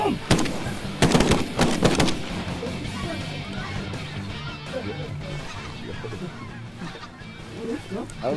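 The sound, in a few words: gunshots while hunting geese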